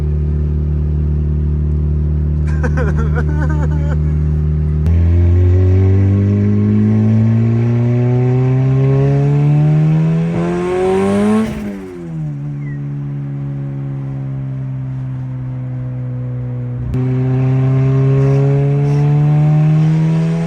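A turbocharged car revs and accelerates hard, its loud, close engine note climbing steadily until a sharp cut at the top, then settling into a lower steady drone before building again.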